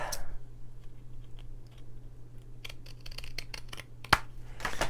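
Scissors trim card stock up close, snipping in a quick run of short crisp cuts with a sharper snip near the end, against a low steady room hum.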